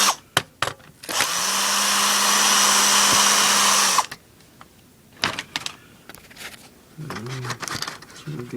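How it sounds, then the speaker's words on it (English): Power screwdriver running steadily for about three seconds while screws are backed out of a Trans 340 credit card machine being scrapped, framed by short clicks and handling knocks, with a voice briefly heard afterward. "So go in here and pop a few more screws."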